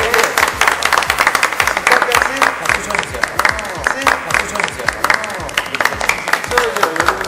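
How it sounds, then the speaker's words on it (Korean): Applause from an audience at a Korean variety-style event, steady dense clapping with whoops and loud chatter from people throughout. "박수 박수"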